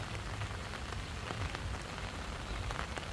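Steady rain patters on surfaces beside a pond walking path, likely onto an umbrella overhead, a soft, constant, close hiss with scattered drop taps and no voices.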